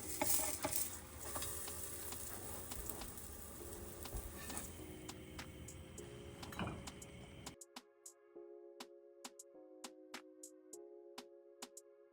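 A sweet potato pancake cooks in a pan on low heat, a quiet steady sizzle with occasional scrapes for most of the clip, then cutting off to near silence broken by sparse clicks.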